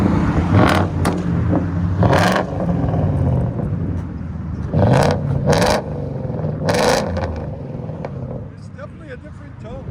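Revving of a 2017 Ford F-150 with a 5.0L Coyote V8 and straight-pipe exhaust, with several loud close bursts of throttle over a rumbling idle, and people talking nearby.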